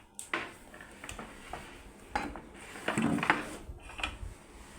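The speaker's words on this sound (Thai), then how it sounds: "ตอนนี้เรามาหั่นหัวปลีและไก่เอาไปต้มกันก่อนนะคะ" A knife cuts banana blossom and chicken on a board in a home kitchen, with sparse irregular taps, thuds and clinks of utensils, fairly quiet and without speech.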